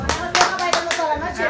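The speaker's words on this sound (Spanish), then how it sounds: "agradecerles pues por todo ese aplauso tan grande, esos aplausos de todos ustedes" Audience applause at a music performance, a few sharp hand claps in an uneven rhythm, fairly close and moderately loud, fading off toward the end.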